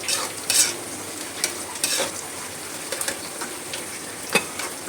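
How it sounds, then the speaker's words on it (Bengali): Chopped garlic frying in a pan gives off a steady close sizzle, with a spatula stirring and scraping in irregular bursts, no voices. "কুচো করা রসুনটা দিয়ে দিলাম। এবার এটা একটু অল্প একটু ভেজে নিয়ে"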